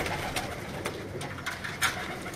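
Pigeons kept by a fancier coo softly in a low, rolling murmur with a few brief flutters, faint and steady against light background noise, with no talking.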